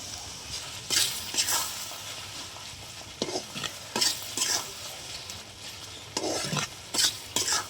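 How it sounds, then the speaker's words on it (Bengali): Mashed pointed gourd with crumbled fried egg being stirred in a frying pan, with repeated scraping strokes of a spatula in short bursts over a low, steady sizzle, nearby and without talk. "পটল বাটাটা দিয়ে দিলাম ভালো করে নেড়ে নেব"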